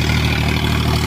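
Loud, close diesel rumble from an Eicher 551 tractor running without its silencer, a steady harsh throb with rattling edges held at a constant pace throughout.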